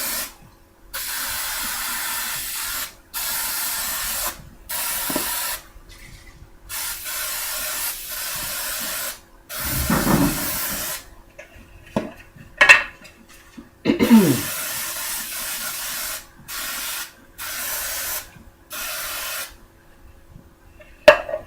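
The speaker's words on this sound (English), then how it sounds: "spray is supposed to have flour already in it, so I'm going to just go over here and spray it" Repeated hissing bursts of an aerosol baking spray with flour coating a bundt cake pan, several long and short sprays separated by pauses, close and fairly loud with some clatter between.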